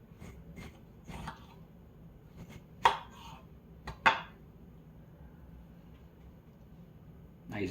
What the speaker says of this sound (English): But we're gonna slice a little tomato.